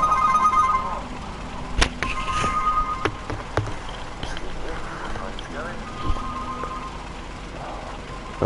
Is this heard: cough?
no